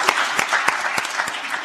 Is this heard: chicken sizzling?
no